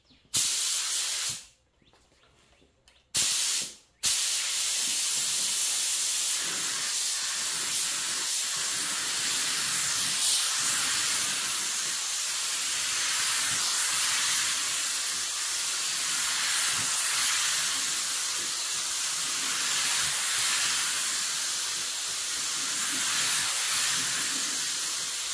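A spray can lays cherry pearl paint over a Rustoleum True Navy base coat. Two short bursts of hiss at the start are followed by a long, continuous, close spraying hiss.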